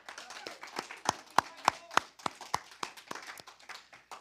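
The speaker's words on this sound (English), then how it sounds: "So give yourselves a hand clap." Graduates at a graduation ceremony clap their hands in crisp, separate smacks, a fairly sparse and uneven patter from a small group that stays close and moderately loud throughout.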